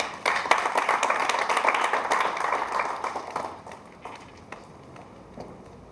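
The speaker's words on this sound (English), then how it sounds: "Let's welcome him with a huge round of applause, please." An audience at a finance event gives a round of applause to welcome a speaker, moderate clapping from a modest crowd that swells briefly then thins to scattered claps and fades.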